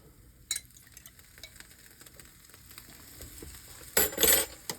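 Jalapeno peppers and potatoes for home fries frying in a pan, with a low background sizzle, a quick clatter early on and a louder burst of sizzling and stirring near the end, no talking.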